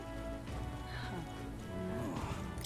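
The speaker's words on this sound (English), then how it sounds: "This bloody rain." Steady rain patters and hisses without a break in the video game Metaphor: ReFantazio, a dense continuous downpour with music and game sounds mixed through it.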